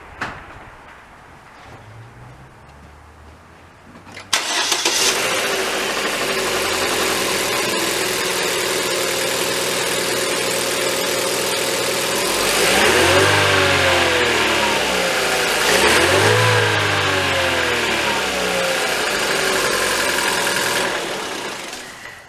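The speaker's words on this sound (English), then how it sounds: "I'm going to go ahead and start the car first, make sure it runs fine." A 1.8-litre Chevy Cruze engine cranks, catches, and settles into a steady idle, with a couple of revs rising and falling before it keeps running.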